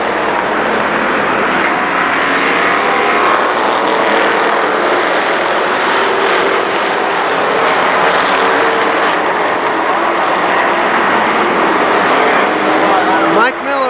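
Pro stock race cars roar around Kil Kare Speedway in a loud, continuous engine drone that fills the whole stretch, with a commentator talking over the noise.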